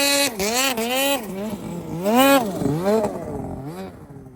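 Ski-Doo snowmobile on a lightweight 175 build, its engine revving up and down in quick surges with a raspy, buzzing tone, close and loud throughout.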